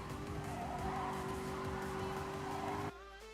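Race car cornering through turn 3 at Willow Springs Big Willow in GT Sport, a steady loud engine drone with a sustained tire-scrub tone for about three seconds before the sound suddenly drops off.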